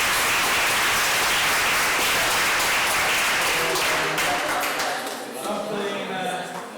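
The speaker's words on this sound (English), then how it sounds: "Give a round of applause for Sergiu" An audience claps steadily and densely for a speaker at a talk on South Tyrolean autonomy, the applause tapering off toward the end.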